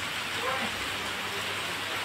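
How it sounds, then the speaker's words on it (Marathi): Heavy monsoon rain pours steadily as a dense, continuous broadband wash with no pauses, close and moderately loud, and no clear voices over it. "पावसाचा धुमाकूळ आहेच, खूप पाऊस असं."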